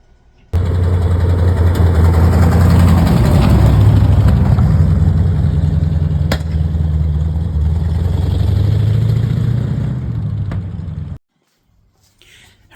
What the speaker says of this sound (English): we got a chance to take the Hemi Cooter out for a short run